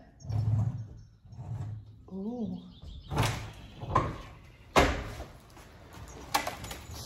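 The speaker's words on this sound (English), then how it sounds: "We've never opened this door, and I'm about to." An old, long-unopened door is worked open with creaks, scraping and several loud knocks and thuds in separate bursts, a short squeal in between, and a brief vocal exclamation.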